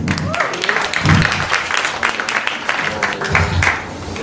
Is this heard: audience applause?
yes